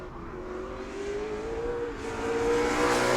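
A modified race car engine drones steadily during a qualifying lap at New Smyrna oval, pitch gradually rising as it accelerates, loud and continuous throughout.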